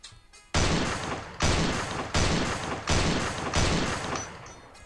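Shots from a Colt revolving rifle, five loud, sharp blasts spaced about three-quarters of a second apart. Each report is broadband and has a long, booming decay. No one speaks.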